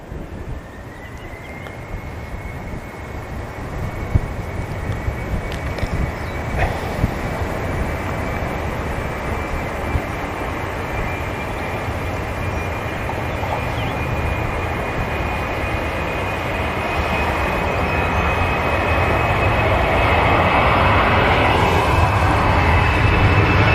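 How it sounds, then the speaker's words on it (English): A KLM jet airliner at Manchester Airport spools up its engines: a steady rising whine climbs in pitch over a deepening roar that grows louder and fuller through the stretch, with wind buffeting and no talk. "the KLM decides to spool up"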